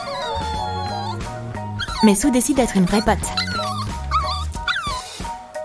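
A cartoon dog whimpers and yips in high, wavering cries under ongoing talk and background music.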